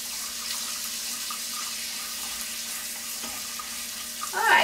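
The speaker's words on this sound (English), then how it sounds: "while the pecans are sizzling away nicely" Pecans sizzle in butter in a skillet with the heat turned off, giving a steady close hiss and fine crackle for a few seconds, with no talk over it.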